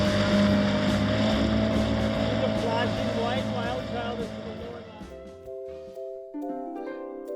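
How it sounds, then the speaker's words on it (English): A sailboat's dinghy motors across the water at night near St. Augustine, its small outboard engine droning steadily and fairly close, then fading as music takes over. "it was time to jump in the dinghy and make our way back to WildChild for the night."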